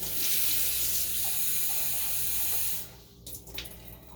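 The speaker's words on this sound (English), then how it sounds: "I'm going to put some warm water in here to have on hand" Warm water runs steadily from a kitchen tap with a soft hiss, then shuts off, followed by a few light splashes and clatters.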